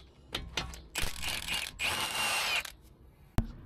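A power tool spins out 27mm bolts during warranty repair work, with a couple of short whirring bursts between quieter clicks and clanks, ending in one sharp metallic knock.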